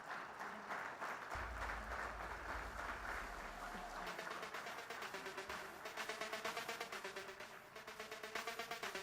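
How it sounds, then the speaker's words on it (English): An audience at an electronics industry awards ceremony applauds students, a sustained rhythmic patter of many hands clapping at a fairly low level with a low hum underneath. "I request all to give them a big round of clap."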